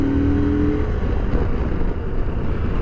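A CFMOTO Ibex 800 T motorcycle engine runs roughly at low revs in first gear, a loud, close, uneven rumble that swells and sags in an on-off surge without settling.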